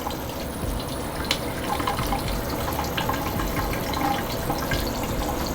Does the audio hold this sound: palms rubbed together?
no